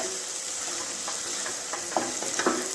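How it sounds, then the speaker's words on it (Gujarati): Chopped green onions sizzling in hot oil in a pan for a Kathiyawadi oro dish, a steady close hiss with a few scraping stirs near the end, no voice. "લીલી ડુંગળી ઉમેરીશું। તેને સારી રીતે કૂક કરીશું।"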